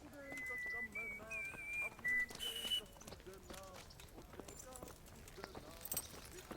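Horse hooves clip-clopping in the medieval game Kingdom Come: Deliverance, a light, irregular clatter of steps beneath whistling birdsong and occasional voices.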